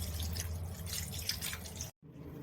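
About 50 ml of water is poured into a pressure cooker holding mutton, salt and garlic paste, a close trickling splash lasting about two seconds before stopping abruptly.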